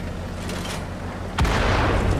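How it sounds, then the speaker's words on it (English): Artillery shell striking close in the tank game World of Tanks, a sudden heavy boom about halfway through that cuts into a continuous loud engine rumble, with no voices. "Oh, we just got hit hard by artillery."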